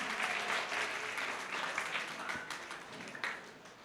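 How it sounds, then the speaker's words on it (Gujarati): An audience at a student award ceremony applauds steadily, a sustained wash of many hands clapping that fades slightly toward the end. "બસ સાથે તાળીઓથી વધાવો."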